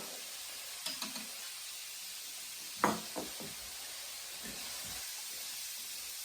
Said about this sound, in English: Let's stir fry this a little bit.